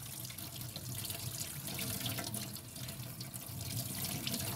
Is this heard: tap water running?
yes